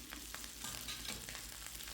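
Tempering of ginger and green chillies sizzling and frying steadily in a pan, a continuous close crackling hiss with no talk.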